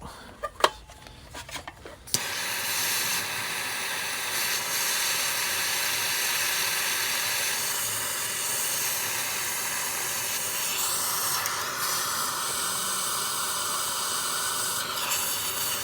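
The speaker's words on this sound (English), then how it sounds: "See if MAP gas will do the job." A steady, loud hiss of a MAP gas torch burning, used on a Honda's rear brake, runs continuously after a brief clatter at the start, with slight shifts in tone.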